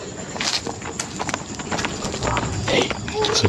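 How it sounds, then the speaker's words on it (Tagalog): A horse's hooves clip-clop at night in Santa Cruz, steady repeated knocks under constant background noise while people talk over them. "Un caballo. Escuchan. Aquí lo escucho ahora."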